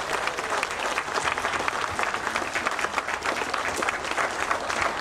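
An audience at the 2009 Odra Cup rowing awards ceremony applauds the winning crew, AZS UMK Toruń, with dense, continuous clapping that holds at an even level throughout and no voices on top.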